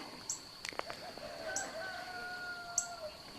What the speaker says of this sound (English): I've got a rooster's across the street.